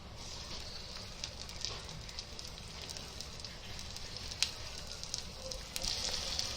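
Garlic, chilli and curry leaves crackle and sizzle in hot ghee with scattered sharp pops and spits, a busy frying hiss that grows a little louder toward the end.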